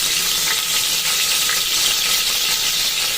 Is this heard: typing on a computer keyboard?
no